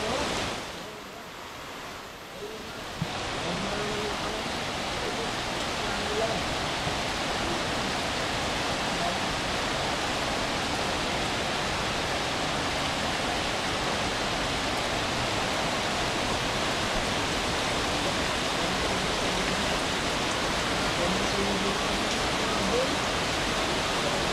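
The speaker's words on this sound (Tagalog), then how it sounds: "Matagal itong ulan na ito." Heavy, prolonged rain during a typhoon pours steadily in a dense, even roar around a hut beside a pigeon loft, continuing unbroken after a brief quieter moment at the start.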